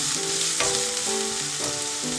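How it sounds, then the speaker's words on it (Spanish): Garlic added to onions browning in a pan over medium heat, a dense continuous sizzle with a brief burst as the garlic goes in, close and fairly loud over soft background music. "Y ahorita le vamos a poner el ajo."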